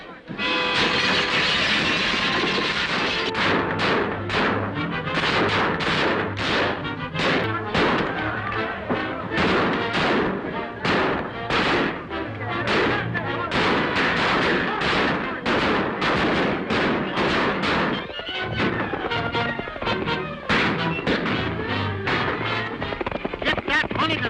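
A volley of gunshots is fired over pursuers' heads in an old western, with rapid irregular cracks and bangs over continuous rumbling, rattling clatter and muffled commotion for the whole stretch.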